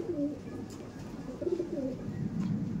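Pigeons give soft, repeated low coos in short rolling phrases, close by in a loft with faint background noise.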